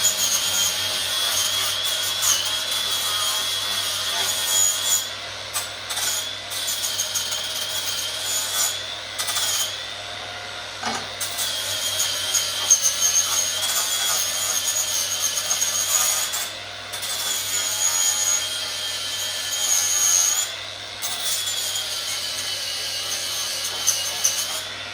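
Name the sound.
cleaning slag off edges of cut metal part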